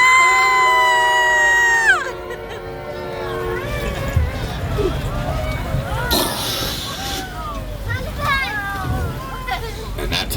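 Passengers on an amphibious duck tour truck let out loud, high squeals and screams as it plunges into the water, followed by excited crowd chatter and scattered shrieks over rushing water.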